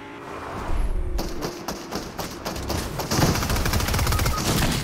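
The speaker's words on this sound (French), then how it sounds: "il y a un mec qui est sur le zeppelin qui tire en snipe" Gunfire in the Fortnite video game, including sniper shots from a zeppelin, comes as a dense series of sharp, loud reports and thuds in quick succession.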